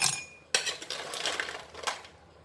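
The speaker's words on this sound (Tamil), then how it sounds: "ரெண்டு கப் எடுத்துருக்கேன் அதில் ஐஸ் க்யூப் சேர்த்துக்கிறேன்" Ice cubes drop into two cups of tomato juice in a home kitchen, giving a few sharp clinks and rattles against the cups, then a fading settle, with no talking.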